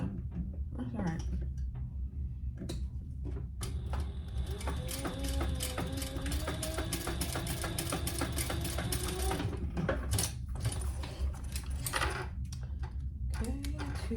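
A sewing machine runs steadily, stitching a row of seams on a laptop bag, with a continuous mechanical whir over about ten seconds, close up and moderately loud, and a few brief clicks and handling noises before and after.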